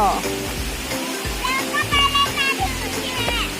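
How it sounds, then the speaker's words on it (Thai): Soi Sawan waterfall rushes and splashes steadily, a broad continuous wash of flowing water close by, with people talking over it. "นี่น้ำตกสร้อยสวรรค์"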